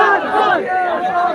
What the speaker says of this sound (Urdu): یہ نعرے لگ رہے تھے